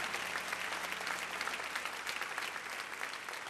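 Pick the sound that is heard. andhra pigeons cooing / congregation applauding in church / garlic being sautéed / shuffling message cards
congregation applauding in church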